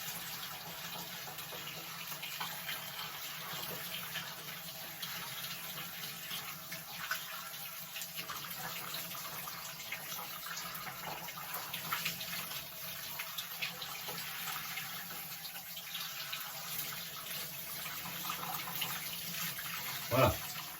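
Tap water runs continuously over a man's hair while it is rinsed backward at a sink, a steady soft splashing hiss lasting throughout, with a faint voice underneath and a brief knock near the end.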